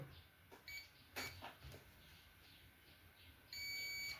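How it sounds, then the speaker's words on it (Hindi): A multimeter in continuity mode beeps while testing a shorted MOSFET in a 60V 6A lithium scooter charger, giving a faint steady high tone near the end after a few brief clicks. "इसको मैं बीप मोड पे चेक कर लेता हूँ, अगर शॉर्ट होगा तो बीप दे देगा"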